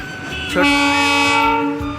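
The Darjeeling toy train sounds a sustained, bright horn toot that holds steady, preceded by a brief mechanical clunk and low background rumble.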